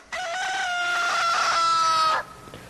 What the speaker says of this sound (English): Right away, the rooster crowed.